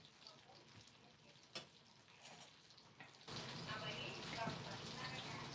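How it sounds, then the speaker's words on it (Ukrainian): Liver fries in a pan with a steady sizzle that fills the clip, growing louder and denser midway, with faint clinks in the background. "печіночка смажиться"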